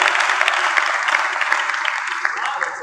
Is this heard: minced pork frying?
no